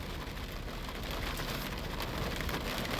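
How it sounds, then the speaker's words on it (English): Steady rain pattering on surfaces during a thunderstorm, a dense continuous hiss heard from outdoors with no clear thunderclap and no voices. "Did you hear that thunder?"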